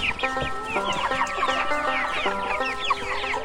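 Several chickens cluck close by in a busy, overlapping chorus of short, repeated calls that continues steadily throughout.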